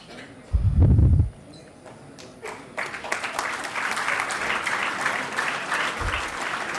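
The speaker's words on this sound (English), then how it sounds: "A big round of applause, ladies and gentlemen, please" Audience applause at a Toycathon competition event, starting after a loud low thump and building into sustained dense clapping and crowd noise that continues to the end.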